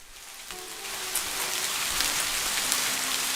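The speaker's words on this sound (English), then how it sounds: "I can even make it rain." Video game rain falling steadily on surfaces, a dense continuous patter with scattered brighter drops that grows slightly louder, alone without talk.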